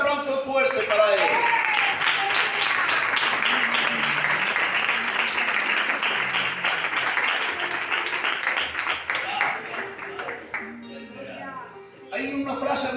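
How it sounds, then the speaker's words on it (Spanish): Strong applause from a church congregation, loud continuous clapping that fades toward the end, with voices speaking over it as it dies down and a louder voice returning at the close. "dale este aplauso fuerte para Él."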